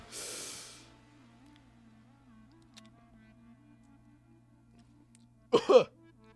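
A short, sharp double cough, close and loud, near the end after a faint steady hum; a brief hiss opens the clip.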